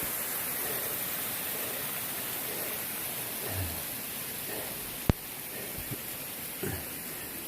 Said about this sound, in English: another beautiful waterfall I'm coming up next to